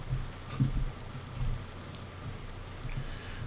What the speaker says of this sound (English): Yay rain.